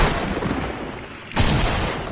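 A double-barrel shotgun in a battle royale video game, loud booming blasts amid dense gunfire, two heavy reports in quick succession.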